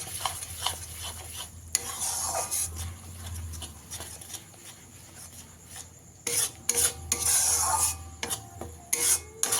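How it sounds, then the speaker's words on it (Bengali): Mustard and poppy seed paste masala stirred in a pan over a low flame for a pabda fish curry, a steady rasping scrape of a spatula across the pan with bursts of louder clatter, no talking. "এইভাবে দুই থেকে তিন মিনিট মশলাটাকে কষিয়ে নিতে হবে"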